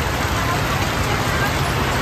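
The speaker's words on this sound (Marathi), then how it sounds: "किती डेंजर पाऊस पडतं" A heavy, torrential downpour pours steadily during a long spell of rain, forming a dense, unbroken wash of noise with no separate drops standing out.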